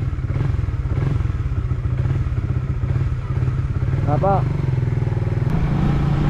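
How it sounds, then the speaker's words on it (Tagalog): Motorcycle engine idling and revving close by, a continuous rumble with a few clattering knocks, while a voice speaks briefly over it. "Motor muna tayo."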